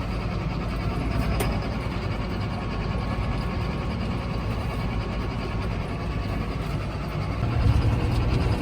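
A 7430 tractor engine running steadily in bitter cold snow while feeding cattle, a continuous close idling drone with a slight surge in rumble near the end.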